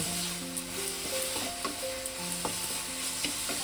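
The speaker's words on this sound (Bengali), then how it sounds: "আমি আবারও মিনিট 2-3 ভালো করে নেড়ে পুরটা তৈরি করে নেব" Carrot filling for patisapta stirred in a frying pan, a continuous close sizzle with repeated scraping strokes of a spatula and no talk.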